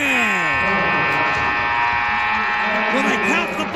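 A loud, sustained electronic buzzer ends a high school basketball playoff game between Lakota West and Kings, droning steadily under crowd noise and an excited announcer calling the finish.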